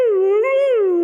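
A dog howls in one long, loud, wavering note lasting about a second, rising slightly in the middle before falling away, heard alone and close.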